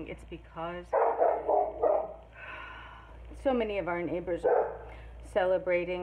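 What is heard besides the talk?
dogs barking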